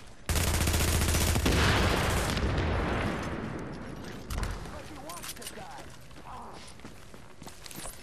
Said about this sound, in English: I knew that was a shotgun.